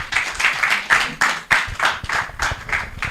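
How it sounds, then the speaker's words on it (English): An audience at a technical paper-presentation session applauds a speaker being called up, a steady patter of many hands clapping at moderate volume for a few seconds. "a round of applause for him."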